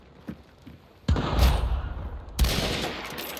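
Gunfire in the video game Hunt: Showdown, with a couple of faint distant pops followed by two loud, booming shots whose heavy reverberating tails roll on for over a second each.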